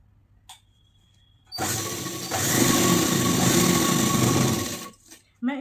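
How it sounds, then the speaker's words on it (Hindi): A sewing machine stitches the seams of a circular umbrella-style palazzo, starting up after a faint click and running in a steady, close mechanical whir for about three and a half seconds before stopping. "तो सिलाई करते हैं।"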